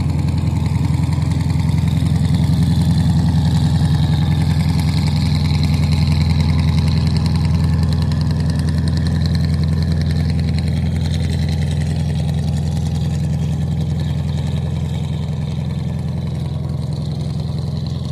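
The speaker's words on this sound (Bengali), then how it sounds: "আমিনবাজার গাবতলী ব্রিজ নিচ দিয়ে জাহাজটা যাচ্ছে" A ship's engine drones steadily as the vessel passes under Gabtoli bridge at Aminbazar, a loud, unbroken low rumble with a constant hum that holds for the whole stretch without talk.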